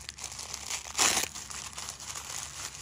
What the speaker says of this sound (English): I know I'm ripping the packaging,